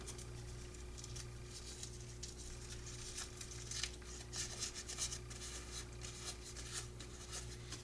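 Paper is rumpled and rolled between the fingers, making soft, irregular crinkling and rubbing rustles close up over a low steady hum.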